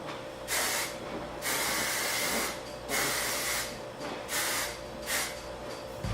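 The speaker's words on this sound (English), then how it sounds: "So you're spraying more at the root and letting it kind of just float to the ends." Control Addict 28 hairspray is sprayed at the hair roots in five or six close, loud hissing bursts, each lasting about half a second to a second, with short pauses between them.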